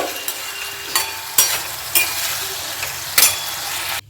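Sugar being stirred into a sizzling spice tempering for Bengali radish and pea dal, with a steady frying crackle and several sharp spatula scrapes against the pan at irregular intervals.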